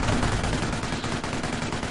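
Sherman Firefly tank gun fire in a World War II strategy game, dense overlapping booms of cannon and gunfire in a loud continuous battle barrage, heard without talk.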